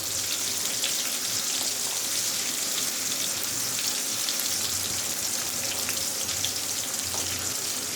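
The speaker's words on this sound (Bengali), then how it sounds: "এখানে আমি পেঁয়াজের উপরে একটু ভুনা ভুনা করবো, হালকা ঝোল রাখবো।" Onions sauté in a pan with a little liquid, giving a continuous, dense hiss and crackle that holds steady and fairly loud throughout, with no voices.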